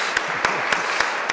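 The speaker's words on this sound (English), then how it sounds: "I think Michelle deserves a hand clap" A few hand claps ring out in a church during a confirmation Mass, five sharp evenly spaced claps close by against a quiet room.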